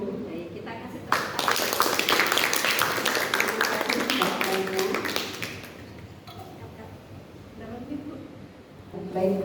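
A class of students claps for a classmate during a lesson, a burst of many hands that swells quickly, holds for a few seconds and then fades, with a voice speaking afterward.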